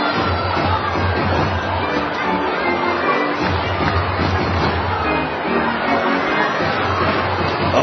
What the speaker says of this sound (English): Oh, is this crowd buzzing?